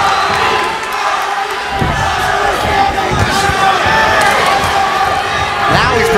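A boxing arena crowd at a bout roars and shouts continuously, a loud dense wash of voices with sharper calls rising out of it, heard up close throughout the clip.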